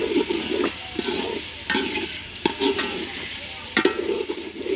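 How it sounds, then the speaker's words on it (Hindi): Pickle masala frying in a pan for aloo pulao, a continuous sizzle broken by several scraping stirs of a spoon against the pan, heard up close with no voices. "1-2 मिनट के लिए अचार को भून लिया हमने इसके अंदर"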